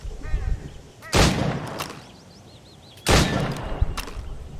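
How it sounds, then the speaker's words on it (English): Two loud pistol shots fired at targets in Assassin's Creed Rogue, spaced about two seconds apart, each a sharp crack with a decaying tail, over quiet game ambience and faint chirping. "Go on. Shoot these targets."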